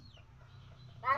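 A single short chicken cluck sounds near the end, fairly close, over a faint low background murmur while the bird is fed.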